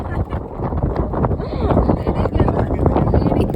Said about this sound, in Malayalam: ഇത്രയും കാറ്റുള്ള സ്ഥലത്ത് ഈ ഷർട്ടും മുണ്ടും കൊടുത്ത് എന്തിനു വന്നു